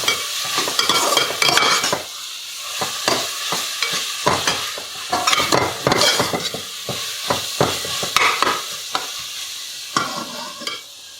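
Ginger garlic paste sautéing on low heat in a pan for prawn biryani, with repeated stirring scrapes and a steady sizzle that rises and falls in bursts, close and fairly loud, no voices.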